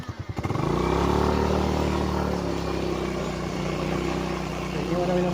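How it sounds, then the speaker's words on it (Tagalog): A motorcycle engine starts with a few sputtering pulses, then settles into a steady close idle and running hum on a barangay road, with a voice talking over it. "sakay na muna tayong motor"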